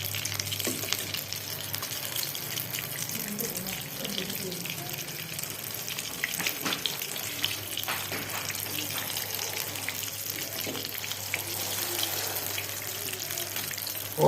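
Chicken shami kababs fry in a pan over low heat with a soft, steady sizzle and some watery hiss. Faint handling noises come and go on top.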